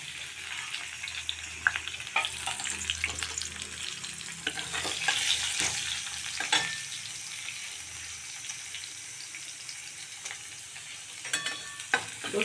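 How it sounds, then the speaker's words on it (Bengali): Garlic and dried red chili fry in hot oil with black cumin, a steady close sizzle with light stirring scrapes and a few clinks over it, no voices. "রসুন লঙ্কাটা একটু বেশ ভালোই ভাজতে হবে"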